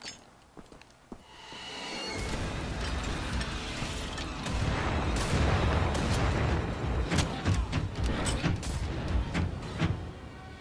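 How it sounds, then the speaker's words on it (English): Grenades exploding in the Wolfenstein: The Old Blood video game, a few sharp knocks and then a long, loud, dense rumble of blasts and debris that carries on to the end, with no voices. "I'm just gonna toss all my grenades down."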